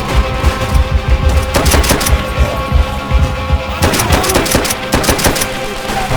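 Rapid bursts of automatic gunfire and scattered shots from a World War II battle in Call of Duty: World at War, loud and close, dense volleys broken by brief pauses with no talking.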